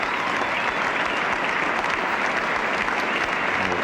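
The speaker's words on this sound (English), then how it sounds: "Applause for this partnership now, which has put on 50 runs." A cricket crowd at the 1974 Pakistan versus England second Test applauds a fifty partnership, a dense, steady wash of clapping that holds at an even level throughout, with no voices standing out.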